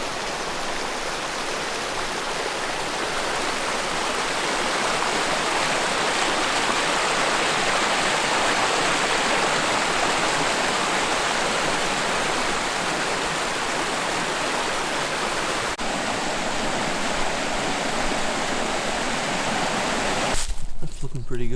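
A river runs steadily on a cold winter day at about -10°C, a continuous loud rushing wash of water that is cut off abruptly at the very end.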